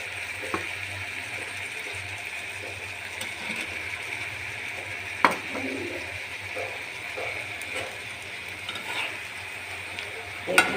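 Eggplant stirred and frying in a pan gives a steady low sizzle throughout, with a few sharp scraping clicks from the spatula at irregular moments.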